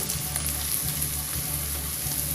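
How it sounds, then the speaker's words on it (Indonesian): Spices for oxtail soup fry in a pan while being stirred, giving a continuous even sizzle with soft periodic scraping strokes. "Terus diaduk-aduk sampai wangi ya"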